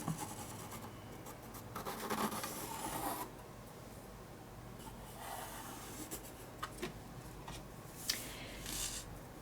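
A pen scratches and rubs across paper while tracing around a foot to measure for custom slippers, a steady close rasping with short pauses and a few louder strokes toward the end.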